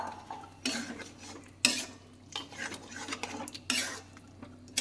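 A utensil stirs boiled peas and potatoes with sugar in a pan for ghugni, producing soft scraping strokes and occasional sharper clinks against the pan, close and fairly quiet.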